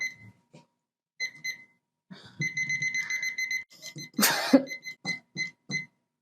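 A kitchen timer goes off while one-pan chicken and couscous is being cooked, sounding repeated bursts of bright electronic beeps that stop and start, close and clear, with a brief clatter partway through.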